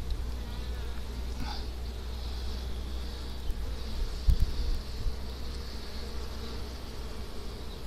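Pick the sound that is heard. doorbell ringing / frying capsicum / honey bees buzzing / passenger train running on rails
honey bees buzzing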